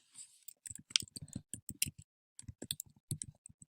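A computer mouse clicked over and over at close range, quick dry clicks in short uneven bursts with brief pauses between them and no voice.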